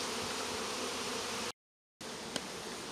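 A dense swarm of honeybees shaken out of a double hive, their buzzing loud, close and steady, broken once by a brief dropout of silence before the droning resumes.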